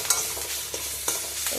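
Drumstick leaves stir-fried in a pan sizzle steadily while a utensil scrapes and stirs them in a few distinct strokes, close and fairly loud, with no voices.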